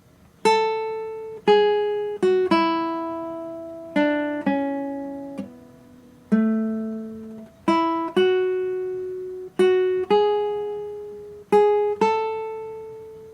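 Single plucked classical guitar notes of Joy to the World ring out one at a time in a slow, spaced melody, each decaying before the next, clear and close with no talking.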